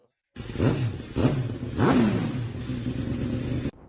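Ducati Streetfighter V2 2022 motorcycle engine revving close by, three sharp rising blips of the throttle followed by a sustained higher rev that holds, then cuts off abruptly.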